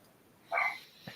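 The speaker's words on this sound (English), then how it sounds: "This is who's barking at you right now." A small dog lets out one sharp, fairly close bark followed by a faint short sound, with no talking.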